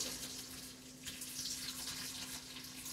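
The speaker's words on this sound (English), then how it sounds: "we're gonna drain that water very carefully" Hot water from a stovetop pot pours steadily through a strainer into a sink, a continuous close splashing rush with a faint steady hum beneath and no talking.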